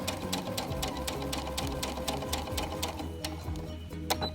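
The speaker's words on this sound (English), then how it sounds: "I'm just going to sew until the line here." Sewing machine stitching fabric in a fast, steady run of close mechanical ticks for most of the clip, slowing and stopping near the end with a last clack.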